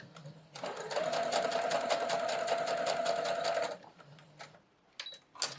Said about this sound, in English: A little back stitch to secure those stitches